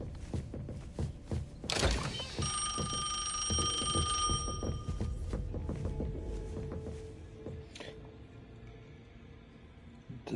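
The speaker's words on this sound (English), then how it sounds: "We heard a phone ring" A telephone rings inside the video game Neverness to Everness, a bright repeating bell tone cutting through busy in-game ambience, footsteps and clatter at moderate loudness.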